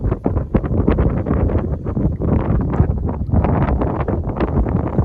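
Wind blowing hard into the microphone outdoors on a fishing boat, rough rumbling buffets in irregular gusts, loud and close throughout with no clear voices.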